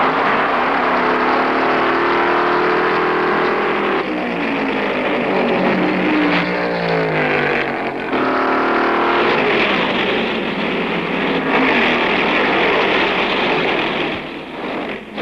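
1969 NASCAR Grand National stock cars racing at Rockingham Speedway, loud V8 engines droning and swelling as cars roar past in overlapping waves of pitch, close and continuous.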